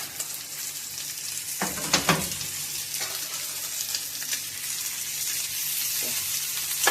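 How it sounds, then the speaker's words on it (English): Several pieces of fish frying in a pan for sweet and sour fish, a steady broadband sizzle throughout with a few brief louder crackles and spatters, close and continuous with no talking. "I'm going to allow these couple pieces to fry"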